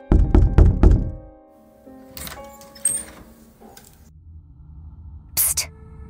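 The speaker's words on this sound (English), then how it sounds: "I'll knock first." Several loud, hollow knocks in quick succession on a haunted mansion door in the video game Berry Avenue, followed by quieter creaks and scattered game sounds.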